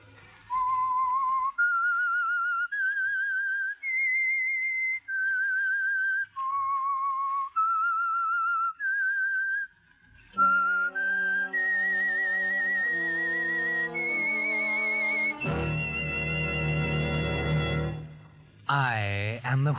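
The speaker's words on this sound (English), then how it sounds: "That whistle is your signal for the Signal Oil Program" A lone whistled melody from the theme of the 1940s CBS radio mystery The Whistler, a clear rising and falling tune of held notes. An orchestral passage with a swelling chord follows.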